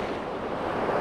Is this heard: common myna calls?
no